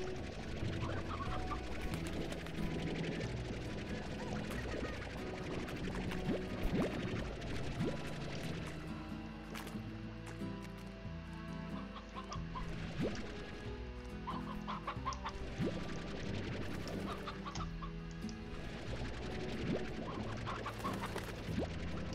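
Many chickens cluck steadily in a busy, continuous chorus in the video game Slime Rancher, with scratching and scattered squawks and no talking.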